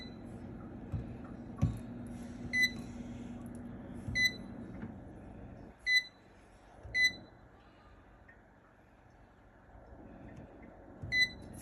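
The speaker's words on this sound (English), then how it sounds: "we're going to put them in the air fryer at 400 for 40 minutes" Air fryer control panel being set, giving a series of short, bright electronic beeps at irregular intervals over a quiet kitchen background with light handling noise.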